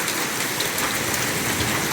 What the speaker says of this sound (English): I just get hit with hail.